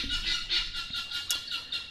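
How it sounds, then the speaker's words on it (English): Harsh, repetitive squawking calls from several guinea fowl, loud and close, pulsing in a rapid rhythm. "That's the guineas. Gotta love guinea fowl."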